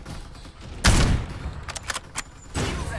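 Gunfire in the battle royale video game Farlight 84: a loud burst of shots hits suddenly, followed by several quick, sharper reports and a second heavy volley near the end, with no one speaking.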